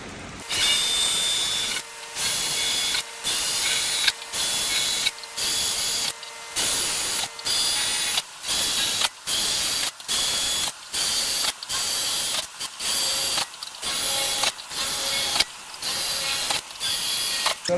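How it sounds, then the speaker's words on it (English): A power drill with a pilot bit bores a run of holes in a metal column for a trucker mailbox sign, each burst a loud whirring bite into the metal separated by brief pauses, repeating rhythmically in close succession. "I'm gonna drill these 17 holes with this pilot bit one more time"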